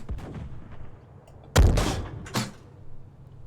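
Tank main gun fires in a video game, a single loud, close boom with a heavy low-frequency thump, followed moments later by a sharper impact crack and fading rumble.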